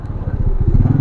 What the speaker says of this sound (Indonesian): Oh, ada motor gede.